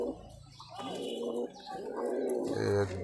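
Giribaz pigeons, a pair of black-eyed birds, coo in low repeated bursts close by, with other soft bird sounds and some room noise around them.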